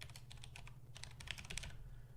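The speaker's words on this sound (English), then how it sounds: "I'm typing that into the chat right now" Rapid typing on a computer keyboard, a quick run of crisp close key clicks with short pauses, alone and fairly quiet.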